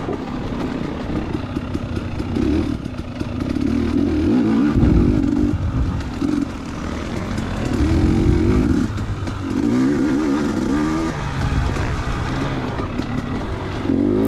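Motocross race motorcycle on lap 2 of the Mag 7 Swamp Rat GP, the engine loud and near, revving up and down in repeated surges as the rider works through the course.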